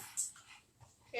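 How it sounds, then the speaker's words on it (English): Pugs wrestling and playing rough, including an 8-month-old pup tangling with bigger dogs, heard as faint scuffling with soft whimpers and brief yips scattered through a quiet moment. "that tussling you hear is the dogs playing"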